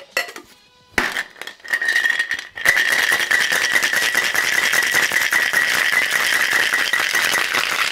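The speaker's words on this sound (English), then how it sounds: "Now we need to shake this with a little bit of ice." A cocktail shaker full of ice rattles hard and fast after a few clinks as it is picked up. The shaking is very close, loud and continuous, with a bright metallic clatter and no talking.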